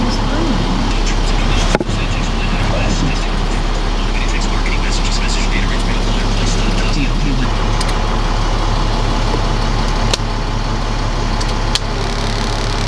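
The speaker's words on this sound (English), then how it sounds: "It's got an automatic transmission and a DT466E International diesel engine." An International 4800 work truck with a DT466E diesel engine runs steadily, a loud low rumbling drone close by throughout, with a few sharp clicks and someone talking over it.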